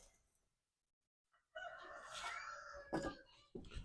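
A rooster on a homestead farm crows once on a cold-weather morning, a loud, drawn-out call rising after a brief silence and ending in a sharp final note, close by and alone.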